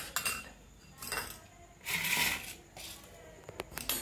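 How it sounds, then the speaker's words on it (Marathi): A spoon mixes buttermilk into batter for surali vadi, with bursts of scraping and clinking against the bowl, some louder stretches and faint metallic taps, and no talk. "चमच्यानं एकत्रित करून घेऊया आपण"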